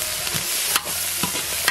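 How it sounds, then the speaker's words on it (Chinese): Pickled mustard greens and chili bean paste stir-fried in oil, a close continuous sizzle broken by a few sharp scraping strokes of the spatula against the wok. "酸菜，炒出酸菜的香味，来点豆瓣酱，炒出红油。"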